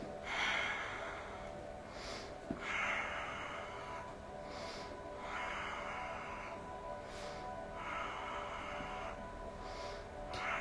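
Rhythmic breathing during a yoga session, a steady cycle of breaths repeating about every two seconds, soft and close with no talking.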